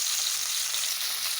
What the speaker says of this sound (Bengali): এবার হালকা মিডিয়াম টু লো আঁচে ভেজে নেব।